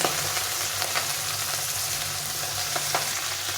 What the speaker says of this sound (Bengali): কীভাবে ফুটছে দেখো মাছগুলো